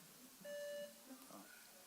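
A single quiz buzzer beep during a Bible quiz, a short clear electronic tone with a bright overtone, sounding once amid quiet room noise and faint voices.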